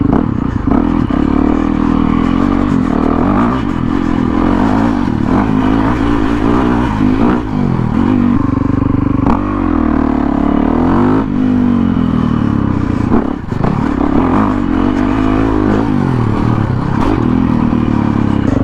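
A 2017 Yamaha WR450F supermoto roars continuously while being ridden, its engine rising and falling through revs with shifts, loud and close, over wind rush.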